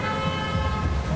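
Street traffic with car horns honking amid road noise, a dense, continuous din of vehicles and tooting horns close by, no speech.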